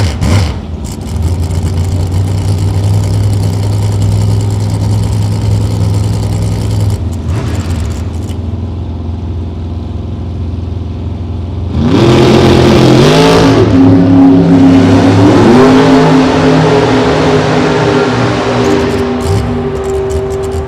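Dragster and funny car engines at a drag race idle with a steady, loud low rumble, then roar up sharply into a harsh, rising revving blast that stays loud to the end, close and with no voices.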